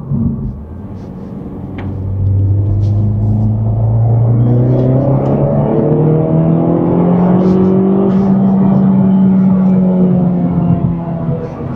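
A Honda Civic Type R FL5 fitted with a PRL intake accelerates hard, engine note climbing steadily through a long pull from low rumble to a loud rising whine, heard from inside the car.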